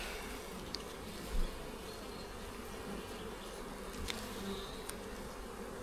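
Honey bees from a strong colony hum during a hive inspection, a faint, steady buzzing drone that carries on without a break and with no voices.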